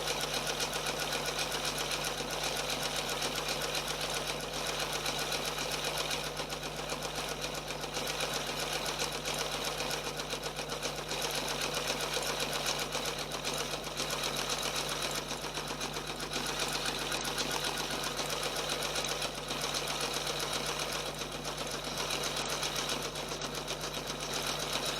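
An embroidery machine stitches out a mug rug in a long, steady, continuous mechanical hum with fast repetitive needle ticking, heard alone at moderate loudness.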